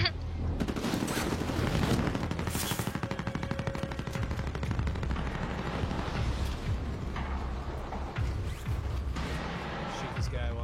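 Rapid automatic gunfire and overlapping shots in a battle royale video game, loud and dense throughout, mixed with in-game clatter and talk.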